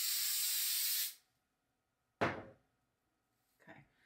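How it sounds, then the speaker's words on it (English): A short burst of hairspray hisses onto a synthetic wig for about a second, close and bright, followed by a couple of soft thuds. "I'm going to add a little bit of hairspray for the flyaways."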